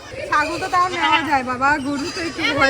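Goats graze along a roadside and bleat in wavering, drawn-out cries, several overlapping calls up close, with people talking over them.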